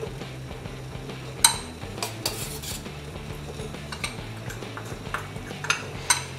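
A spoon scrapes and clinks against a bowl as vanilla custard powder is stirred into milk, with irregular close metallic taps and scrapes over a quiet kitchen background and no talking.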